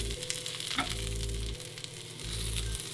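A cauliflower steak coated in blackening spice sizzles steadily in a hot pan, with a brief scrape and shift partway through as it is flipped; no one speaks.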